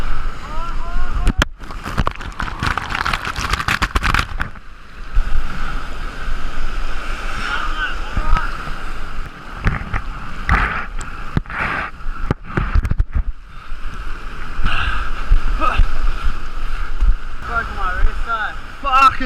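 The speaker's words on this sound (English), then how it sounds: "These fucking waves." Rough ocean waves slosh and crash around a small fishing boat, with loud gusty wind buffeting the microphone and bursts of excited shouting from people on board.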